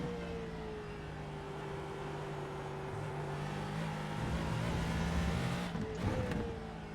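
Ford GT2 race car lapping Virginia International Raceway in iRacing, a continuous engine drone that holds steady and then shifts pitch near the end as the car changes speed, with faint tire noise and no voices.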